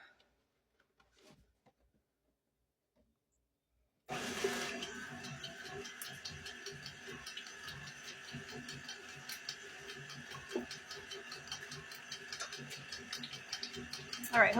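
An electric mixer whirs steadily while mixing banana bread batter, starting after several seconds of near silence and running on at a moderate level with faint ticking under it.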